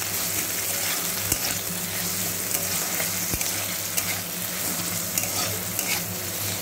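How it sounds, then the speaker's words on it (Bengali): Cut potato pieces frying in oil in a pan, a steady close sizzle with occasional sharp clicks of a spatula against the pan, no voices. "এইভাবে আলুগুলোকে ভালো করে ভেজে নিচ্ছি"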